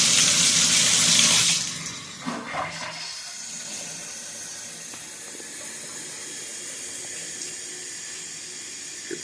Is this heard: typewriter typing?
no